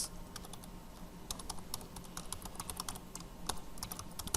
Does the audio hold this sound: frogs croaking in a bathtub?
no